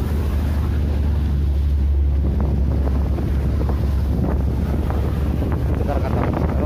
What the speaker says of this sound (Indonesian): ombaknya gede